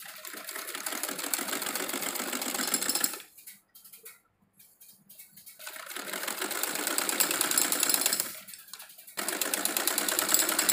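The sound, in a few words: sewing machine stitching a salwar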